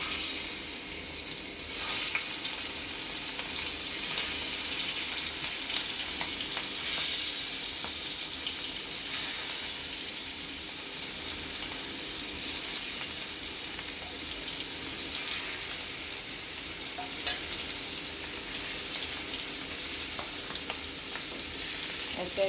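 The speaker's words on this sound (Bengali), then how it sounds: "একে একে সবগুলো মাছ দিয়ে দিলাম, এবার এপিট ওপিট করে ভালোভাবে ভেজে নেব।" Hilsa fish pieces fry in hot soybean oil with a loud, continuous, hissing sizzle that holds steady and close, with occasional faint clicks and no voices.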